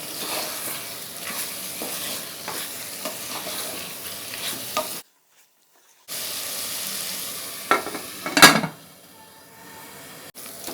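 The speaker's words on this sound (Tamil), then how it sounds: "இந்த மசாலாலாம் போட்டு வதக்கிட்டு திருப்பி ஒரு 5 நிமிஷம் மூடி வைக்கலாம்." Masala sautés in oil in a pan for chicken kuzhambu, a loud continuous sizzle with stirring scrapes, briefly cut to silence midway, then resuming with a louder clatter near the end.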